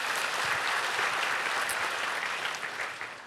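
A church congregation at a Sunday morning service claps together for Jesus, a dense, steady wash of applause that stays loud throughout and eases slightly at the end, with no voices over it.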